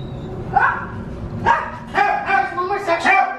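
At an animal shelter in Rancho Cucamonga, several dogs bark and yip in irregular bursts, with high whining tones among the barks and a voice talking underneath.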